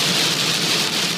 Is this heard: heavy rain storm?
yes